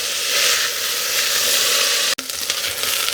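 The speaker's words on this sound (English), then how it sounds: "you need to keep stirring the onions and green peppers from time to time to make sure they don't burn" Onions and green peppers fry in a pan, a loud, steady, close sizzle with a brief interruption near the end, then the hissing continues a little unevenly.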